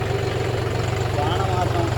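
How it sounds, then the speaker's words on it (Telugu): A tractor engine chugs steadily with a low, rumbling idle throughout, close and loud, while a voice speaks faintly beneath it. "ఇక ఇంటికి వెళ్ళిపోతున్నాం ట్రాక్టర్ వేసుకొని."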